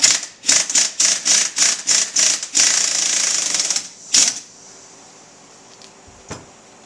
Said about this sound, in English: so I'll just go ahead and loosen that with an impact.